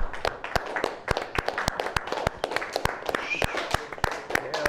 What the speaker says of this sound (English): everybody, let's clap it up.